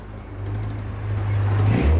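A Bugatti Chiron Super Sport Plus hypercar accelerates, its engine a strong, rising mechanical roar with a deep droning tone that grows louder and climbs in pitch toward the end.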